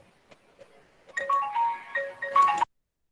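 A phone ringtone plays as a bright electronic melody of tonal beeps, fairly close and alone for about a second and a half before cutting off abruptly.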